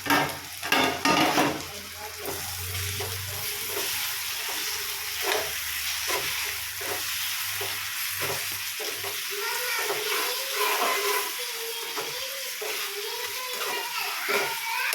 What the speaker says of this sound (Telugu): కొద్దిగా వేసి ఒకసారి అంతా కలుపుకోవాలి